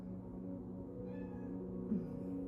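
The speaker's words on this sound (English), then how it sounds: "Someone might be crying because my cat's crying." A pet cat crying indoors, faint thin meows partly buried under a steady low hum.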